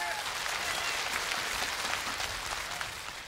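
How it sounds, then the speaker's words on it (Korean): A studio audience at a televised singing contest applauds as the next contestant is called out, a steady, dense patter of many hands clapping that fades slightly toward the end. "박수 주시기 바랍니다."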